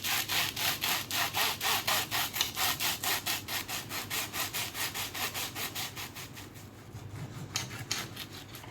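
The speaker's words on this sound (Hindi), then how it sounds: "ये देखिए इसकी आवाज़ सुनिए, कितने क्रिस्पी बने हैं ये।" Crispy buttered toast sandwich being bitten and chewed, giving a fast, steady run of loud, rasping crunches that slow and soften near the end, with no talking.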